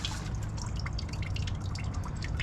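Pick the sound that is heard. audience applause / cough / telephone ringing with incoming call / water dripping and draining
water dripping and draining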